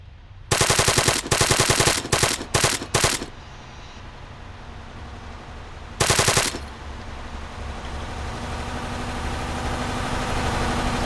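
Automatic gunfire in the video game Arma 3: loud rapid bursts in several quick strings, then a single short burst after a pause, over a steady engine-like hum.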